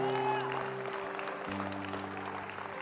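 A church congregation claps together during a Sunday morning worship service in a dense, steady burst of applause, with sustained organ or keyboard tones underneath.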